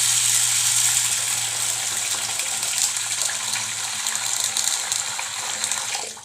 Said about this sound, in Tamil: தண்ணி ஃபில் பண்ணிக்கோங்க.